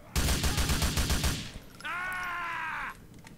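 Rapid automatic gunfire in GTA IV, a loud burst of about a dozen evenly spaced shots lasting over a second, followed by a sustained whirring tone; no talking.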